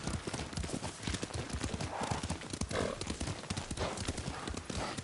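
Horse hooves clip-clop steadily in Ghost of Tsushima as a rider travels on horseback, a close, rapid rhythmic patter with a brief whinny partway through and faint in-game voices in the background.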